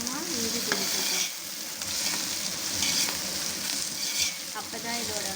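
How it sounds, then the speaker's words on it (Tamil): Coriander and mint sautéing in a pan for mutton dum biryani, a steady close sizzle with scraping stir strokes recurring throughout and no talking. "கொஞ்சம் கொத்தமல்லி, கொஞ்சம் புதினா சேர்த்து நல்லா இது ஒரு 2 மினிட்ஸ் வதக்கிக்கோங்க."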